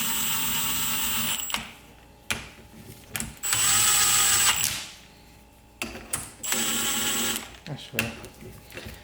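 An impact wrench set to its lowest power setting runs in several short bursts as it tightens lug bolts in a crisscross pattern, each whirring rattle loud and close with pauses between.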